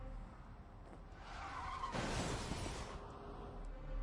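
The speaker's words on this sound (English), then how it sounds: "a truck braked hard and slid across the center line and collided with an oncoming vehicle" A truck braking hard and skidding across an icy, busy road before colliding with an oncoming vehicle; a loud broadband skid and crash burst rises mid-clip over steady road rumble, with no voices.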